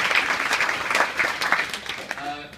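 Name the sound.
audience applause at a dinner speech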